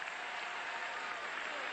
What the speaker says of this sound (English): Kansas State fans on their feet applauding the effort of their defense